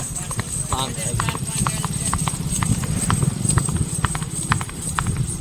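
A mare's hooves clip-clop at a steady trot in an even rhythm, close by, with people talking over them.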